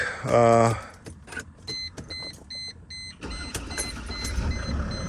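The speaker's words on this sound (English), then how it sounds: "So let me start this thing up." A Mercedes E300 with an air leak between the lift pump and shutoff valve is started: a brief loud cranking burst, a series of short electronic chimes, then a low steady idle rumble settling in.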